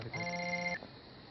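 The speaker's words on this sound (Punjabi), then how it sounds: "ਫੋਨ ਆ ਗਿਆ, ਫੋਨ" A telephone rings indoors with a single electronic ring burst of steady tones that cuts off abruptly, followed by quiet room tone.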